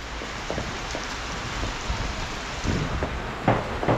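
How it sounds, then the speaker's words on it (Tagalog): Heavy rain pours steadily outside near a hallway, a dense, constant hiss with occasional louder splashes and drips, no voices over it. "Bumanat na naman yung ulan."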